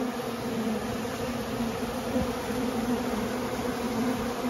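Honeybees buzzing steadily around a tree during a trap-out, a dense continuous drone of many wings close by with no voices.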